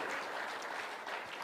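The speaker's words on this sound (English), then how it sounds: "Round of applause, please, just for that innings, the 400 alone." A crowd applauds Brian Lara's 400-run cricket innings at a meet-and-greet in Nepal, with steady, dense clapping that holds at an even level throughout, distant and without pause.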